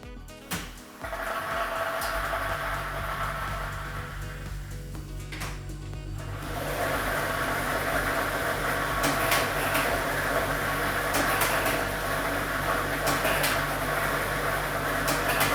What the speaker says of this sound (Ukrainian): ми вмикаємо лототрон